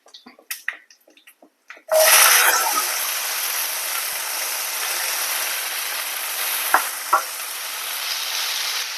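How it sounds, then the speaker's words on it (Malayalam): A few light clicks and taps, then a loud, steady sizzle of chundakka (turkey berries) hitting hot oil that continues without a break, with a couple of brief pops. "നമുക്കിനി ഈ ചുണ്ടയ്ക്ക ചേർത്ത് വഴറ്റാം"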